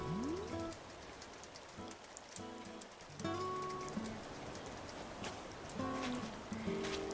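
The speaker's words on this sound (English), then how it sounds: "Ooh, I love the rain." Rain falling in Animal Crossing New Horizons, a steady soft patter across the whole stretch with faint game chimes and tones rising above it, fairly quiet and without talk.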